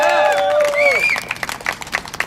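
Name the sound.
crowd applause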